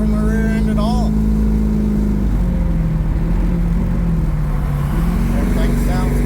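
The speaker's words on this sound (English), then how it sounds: "Cruising down the highway, doing about almost 70." A 4th gen F-Body car cruising on the highway at nearly 70 mph after a Viking Crusader double adjustable rear coilover install; steady close road and engine drone runs throughout, with a voice talking over it.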